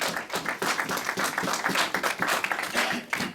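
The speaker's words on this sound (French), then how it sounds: "Est-ce qu'on peut acclamer les saints?" A church congregation claps and cheers together in a quick, steady patter of many hands. The applause is moderately loud and continuous, with voices faintly mixed in.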